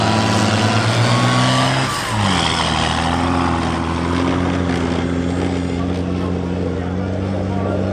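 CVRT tracked armoured vehicle driving at a military training event, a steady loud engine drone with a dip and gear change around two seconds, then continuing hard running, close by; a voice talks over it.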